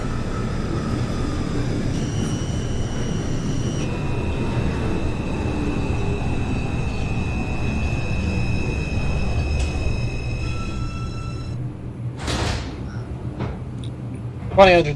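An NYC Subway R142 train on the 2 line toward Flatbush Avenue, simulated in the game OpenBVE, runs with a steady low rumble and whining motor tones that shift in pitch, plus a few sharp clanks near the end.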